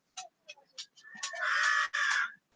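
Farm chickens give several short, sharp clucks, then a rooster lets out a loud, drawn-out crow close by, with no talk.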